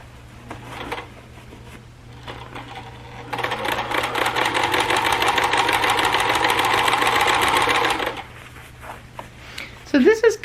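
A sewing machine stitches the edging of a fabric bag made for a wheelchair or walker, running steadily for about five seconds up close. Quieter handling noises come before and after, and a voice follows the stitching.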